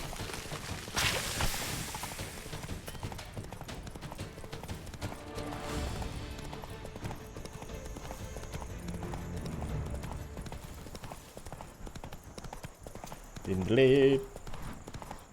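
Hoofbeats of Geralt's horse Roach in The Witcher 3, a steady clip-clop rhythm with a brief whoosh and a short flurry near the end, while someone speaks briefly over the game sounds.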